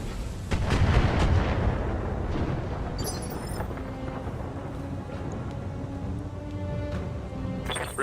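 A PPC energy weapon fires in the mech combat game Battletech, a loud booming discharge that rolls into a sustained rumble and hiss filling the scene.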